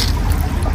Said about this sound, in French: Avec l'eau qui coule ici.